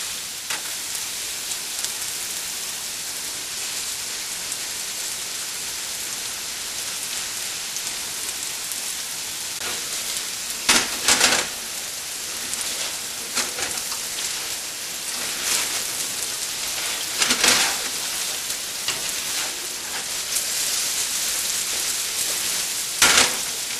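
Okra frying spread out in a pan, giving a steady close hiss and crackle with brief louder bursts of sputtering, and no voices.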